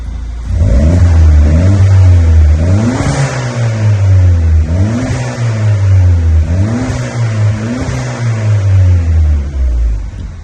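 A Toyota Celica ST180 engine revs repeatedly through an upgraded Simpson exhaust, rising and falling in pitch with a deep, throaty exhaust rumble, loud and close.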